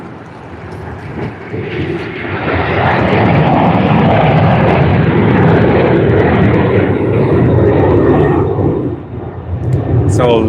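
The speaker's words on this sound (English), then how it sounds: "on the arriving aircraft. On runway 25." An arriving airliner roars loudly overhead on approach to runway 25 at Sydney Airport, its engine noise swelling to a sustained, broad rumble and then easing slightly, heard from close range.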